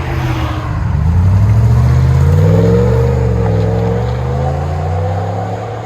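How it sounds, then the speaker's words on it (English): A 2019 RAM 1500 with a 5.7L HEMI V8 and a Flowmaster Super 10 muffler revs loud and close, its deep exhaust rising to a sustained roar and then easing back. "This is what it sounds like with just a muffler replacement of a FLOWMASTER Super 10."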